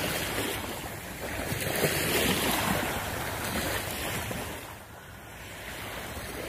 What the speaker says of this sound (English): Look how calm the ocean is.